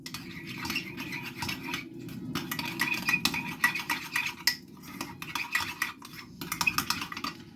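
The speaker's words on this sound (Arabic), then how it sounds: "معلقتين كبار من الجيلاتين، هننزل عليهم بربع كوبايه من الميه وهنقلبهم كويس" A spoon stirring gelatin with a little water in a dish, giving repeated scraping and clinking strokes against the bowl in a steady rhythm, close and fairly loud.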